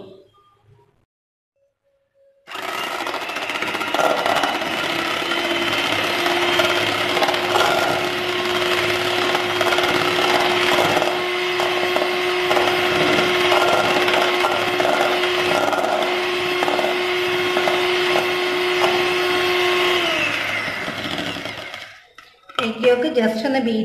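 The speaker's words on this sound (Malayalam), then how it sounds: "ഇനി നമുക്ക് എഗ് യോക്ക് ബീറ്റ് ചെയ്യാൻ തുടങ്ങാം." An electric hand mixer whirs steadily for about twenty seconds, beating egg yolks for a half-kilo black forest cake, with a constant high motor tone. Silence comes before it starts and after it stops.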